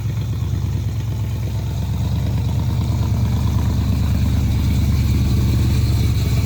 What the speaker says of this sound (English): listen to that puppy. 347 stroker.